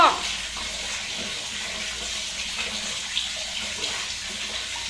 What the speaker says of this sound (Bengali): উপর থেকে জল গলা পড়ছে